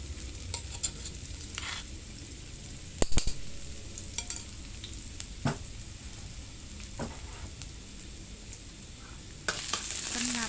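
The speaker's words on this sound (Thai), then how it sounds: "พอน้ำมันร้อนเราก็จะใส่พริกกระเทียมนะคะ" Steady sizzle of dried chili and garlic frying in hot oil, with occasional scrapes and clinks of a spatula stirring the pan, no talking.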